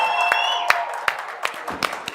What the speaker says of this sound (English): Ladies and gentlemen, can you give yourselves a big round of applause?